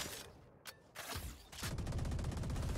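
Odin machine gun in Valorant firing a rapid, sustained burst that builds after a few scattered earlier shots, loud and close, with no talk.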